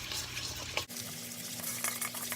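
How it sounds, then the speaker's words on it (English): Spicy ranch sauce stirred in a bowl with a spoon, a close continuous wet swishing and scraping with a brief knock of the spoon partway through. "You stir this together."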